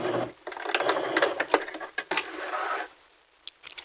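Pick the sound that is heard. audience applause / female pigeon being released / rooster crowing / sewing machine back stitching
sewing machine back stitching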